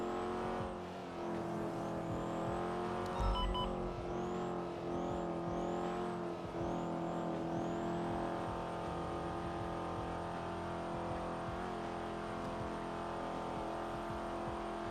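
A car engine roars steadily at high speed in GTA 5, with a continuous loud drone and occasional pitch sweeps as it shifts and accelerates, no talking over it.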